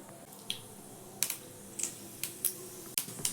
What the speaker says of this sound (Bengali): সর্ষে আর জিরেটাকে একটু নাড়াচাড়া করে ভেজে নেব সুন্দর একটা ফ্লেভার আসা পর্যন্ত